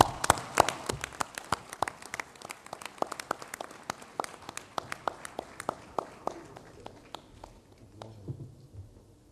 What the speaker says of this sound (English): Can we please clap hands for him?